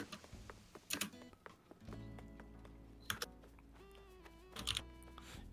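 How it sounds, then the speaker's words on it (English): Quiet clicking from someone typing on a mechanical keyboard, heard as faint scattered clusters of keystrokes over soft game music and background sounds. "You got a mechanical keyboard?"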